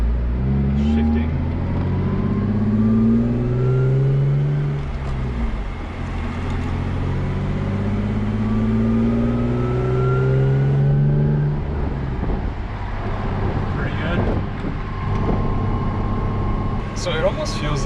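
A Lexus IS300 engine pulling through manual gear changes, rising tones that climb, cut off at each shift and climb again, up through several gears. Voices talk over the engine noise inside the cabin.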